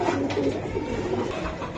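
Pigeons coo near a seller's coop of racing and fancy pigeons, giving soft, repeated low throaty calls against a busy background. No voices are heard.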